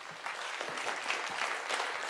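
Steady audience applause fills a snooker arena during a Champion of Champions quarter-final between Neil Robertson and John Higgins, an even wash of clapping that runs for a couple of seconds with no talk.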